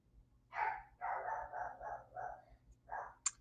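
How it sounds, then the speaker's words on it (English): A dog barks inside a house, a run of about seven short, muffled barks in quick uneven succession, heard at a moderate distance against a quiet room. "I know who that is barking."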